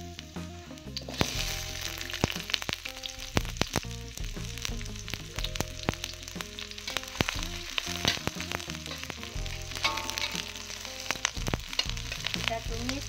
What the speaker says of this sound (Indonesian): Minyaknya sudah panas, sekarang kita masukkan bawang putih dan bawang merahnya.